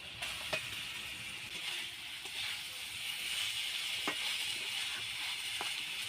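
Fried spice paste sizzling in a pan as water goes in, a broad steady hiss that swells slightly and holds, with a few faint clicks of utensils, close by and unbroken by speech.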